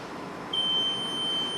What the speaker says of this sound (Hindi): यहाँ से बजर की आवाज़ आएगी